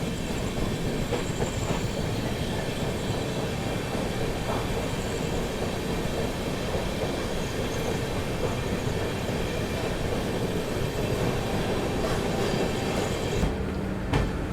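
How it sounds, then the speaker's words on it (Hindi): The 12622 Tamil Nadu Express running from New Delhi toward Chennai rolls steadily along the rails with a continuous loud rumble and faint clickety-clack. A brief squeal comes near the end. "यहाँ पर दोस्तों ट्रेन अपनी राजा की मंडी स्किप कर रही है।"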